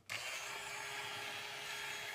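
A steady, continuous power drill whir grinds without pause through a plastic toy part, close and fairly loud, with no voices.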